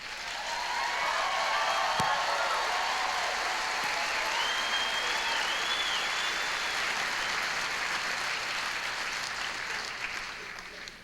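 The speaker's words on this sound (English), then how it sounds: "another big round of applause for Frederick Whiteface" Long, sustained audience applause at an awards ceremony, a broad wash of clapping heard at moderate distance with a few faint cheers rising above it.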